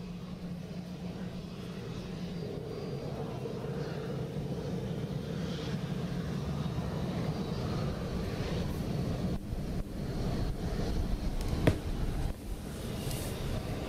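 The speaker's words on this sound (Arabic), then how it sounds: "الآن كما تشاهدون الطائرة تأخذ مسارها باتجاه أرضية الإقلاع" An Algerian presidential aircraft taxis toward the runway at Geneva airport in Switzerland, a steady distant engine drone with wind noise that grows slightly louder over several seconds.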